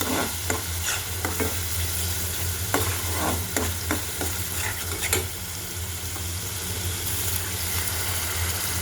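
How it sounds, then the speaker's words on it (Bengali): Spice masala of chili powder stirred and fried in oil in a pan for a Bagair fish curry, giving a steady close sizzle with repeated spoon scrapes and clinks across the pan, with no talk. "মশলাটা সুন্দর করে ভালোভাবে এখন আমি কষিয়ে নেব।"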